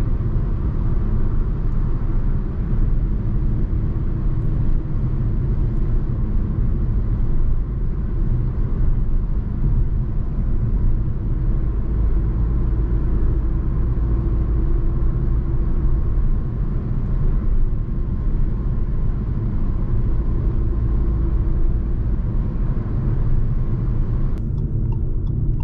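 A 2021 Fiat Egea Cross cornering on a road at about 100 km/h, heard from inside as a steady, loud low rumble of engine and tyres that holds constant throughout with no talking.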